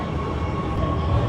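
A Shanghai metro train rolling along, giving a steady, even rumble and hum from inside the carriage with no voices heard.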